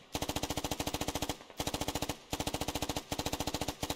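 Sustained automatic gunfire in the SquadOps video game, loud and close, in rapid rhythmic bursts of about a second each separated by brief pauses, with no talk over it.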